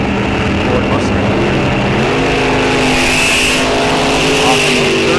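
Drag racing cars at Rock Falls Raceway, including a 1966 Ford Mustang, roar loud and continuous, with a rising engine pitch as they accelerate down the strip and a track announcer's voice running over them.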